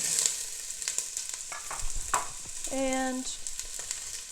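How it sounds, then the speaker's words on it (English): Chopped onion sizzles and crackles in a few tablespoons of olive oil in a big pot. The frying is soft and steady, with stirring clinks and a brief word spoken over it. "I've added a couple tablespoons of olio puro. You know I love this olive oil. And I'm going to add my onion"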